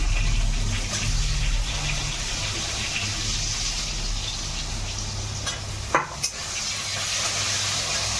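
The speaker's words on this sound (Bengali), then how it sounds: "এবার একটু আলুগুলো দিয়ে দিচ্ছি হ্যাঁ আলুটা দিচ্ছি আলুটা ভাজা হবে এবার" Potatoes frying in hot oil with bay leaf in a pan, a steady loud sizzle and crackle, broken briefly by a couple of sharp clinks from stirring.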